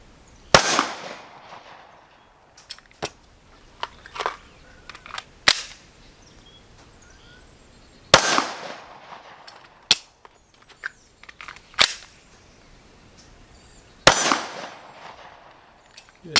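Pistol shots fired at a target during a slow, deliberate training drill, several sharp loud cracks spaced a few seconds apart with brief ringing tails and quieter clinks between them.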